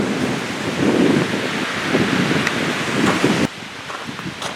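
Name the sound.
wind blowing outdoors by the East Fork River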